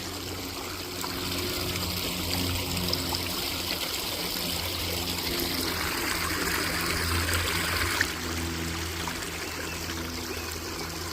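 Water trickles and dribbles steadily through a small swamp outdoors, a soft continuous babble heard up close with no voices.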